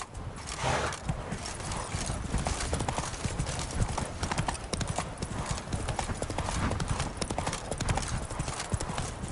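Horse hooves clip-clop steadily on a road in The Witcher 3, with a dense, continuous rhythm of close, loud hoofbeats and a brief whinny, mixed with game music and ambient sound.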